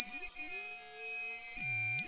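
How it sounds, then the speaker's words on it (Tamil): A loud, continuous high-pitched electronic alarm tone from a wire loop trip-wire alarm circuit, triggered by a cut wire, rings steadily without pause, piercing and close. "திருப்பி நம்ம இன்னொரு இடத்துல கட் பண்ணோம்னாலும் அலாரம் அடிக்கும்"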